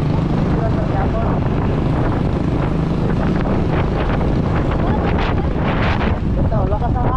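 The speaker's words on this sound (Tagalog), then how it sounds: "Ito, lakas ng hangin." Strong wind buffets the microphone on a journey, a loud continuous roar that rises and falls for the whole stretch, with faint voices partly buried beneath it.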